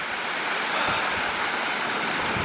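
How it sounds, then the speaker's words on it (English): Rushing water pours steadily in a dense, even hiss from a rain-swollen waterfall at Stainforth, close by, with no voices. "But both waterfalls are run quite well because obviously all the rain that we're getting."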